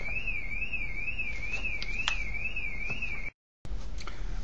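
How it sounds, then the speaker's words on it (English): An electronic alarm wails steadily at a moderate level, its tone rising and falling in a regular rhythm. It cuts off abruptly near the end, followed by a brief silence, and then faint background noise returns. "I stopped for a moment because of alarms."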